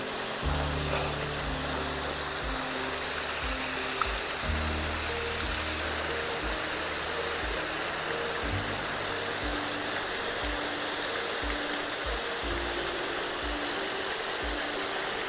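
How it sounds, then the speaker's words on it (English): Chattel Hope Spout, a high waterfall in Northumberland not in full flood, gives a steady broadband rush of falling water, constant and fairly close throughout with no talk. "apparently Northumberland's highest waterfall."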